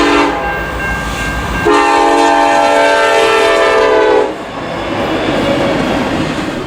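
A loud, close locomotive horn blares in one sustained chord for about two and a half seconds, set between stretches of rumbling train noise with no talking.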